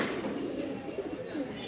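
A Rajshahi Giribaz pigeon coos in a soft, throaty rolling call, repeated over a couple of seconds and close by, with a faint voice in the background.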